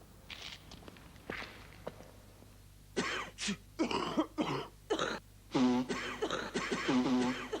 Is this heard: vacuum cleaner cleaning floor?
no